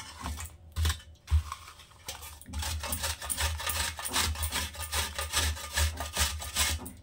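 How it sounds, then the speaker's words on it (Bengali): Patali jaggery is rubbed against a hand grater in quick, rough, rhythmic scraping strokes, close and fairly soft, repeating steadily with brief pauses. "তো এটাকে আমি এখন এই ঘষনির সাহায্যে ঘষে নেব।"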